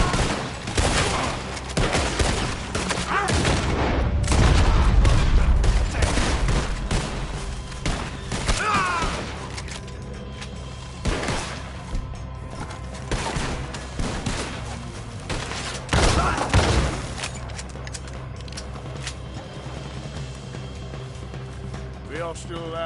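Gunfire erupts in the Red Dead Redemption 2 video game, with bursts of rapid shots, booming impacts and scattered single blasts across the stretch, mixed with voices talking over the action.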